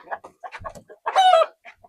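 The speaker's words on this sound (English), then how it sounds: "the chickens, roosters are trying to get who they can get" Chickens and a large rooster on a farm cluck in short bursts, with one longer, louder squawking call in the middle, close by and with no talk over it.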